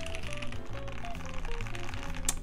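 Keystrokes on a newly built mechanical keyboard, a fast, dense run of close clicky and thocky taps at an even typing rhythm, heard alone with no voices.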